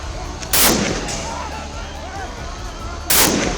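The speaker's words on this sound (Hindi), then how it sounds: "पुलिस ने पत्थरबाजी कर रहे नौजवानों पर गोली चला दी" Two sharp gunshots crack out loudly, about two and a half seconds apart, over a dull background murmur, as police fire on stone-throwing youths in Punjab.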